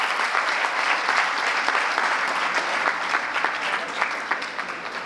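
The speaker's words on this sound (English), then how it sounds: "Let's give him a round of applause for sparing time today." Steady applause from an audience at a university orientation and induction programme, filling the room evenly for about five seconds and tapering slightly toward the end, with no talking over it.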